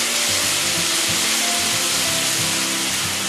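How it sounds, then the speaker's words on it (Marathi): Ginger-garlic paste sautés with chicken in a pan over medium heat, giving a loud, dense, steady sizzle throughout with low rhythmic stirring thumps beneath. "आलं लसूण चांगलं परतून घ्यायचं आहे आपण"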